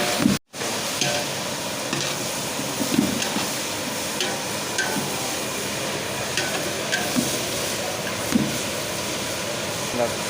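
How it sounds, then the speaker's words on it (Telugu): Ivy gourd and cucumber pieces cooking in a pan for a mixed vegetable pickle, a steady close sizzle with occasional stirring scrapes running throughout, broken by a brief dropout near the start. "తర్వాత దొండకాయలు, కూర దోసకాయ వేసేసుకొని మంచిగా అయితే ఉడికించుకోవాలి కాసేపు"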